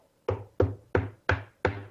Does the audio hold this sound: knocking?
yes